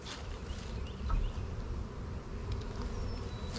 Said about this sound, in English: The bees will buzz or roar